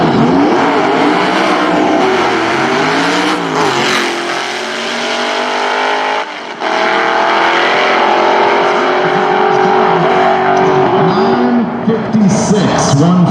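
A loud drag race car engine roars steadily at high revs, pitch wavering and stuttering as it bounces off the limiter, with a brief drop midway.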